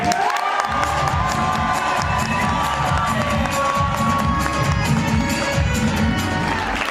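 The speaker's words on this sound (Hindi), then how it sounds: "एक बार जबरदस्त ताली होनी चाहिए सर के लिए।" A crowd at a training event cheers and shouts loudly and continuously for a speaker, a dense wash of voices and whoops with faint clapping mixed in, sustained for several seconds.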